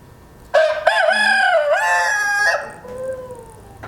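A rooster named Buddy crows loudly and close by in a farmyard near a barn in mid-afternoon, one long drawn-out cock-a-doodle-doo ending in a trailing cluck, with no talking.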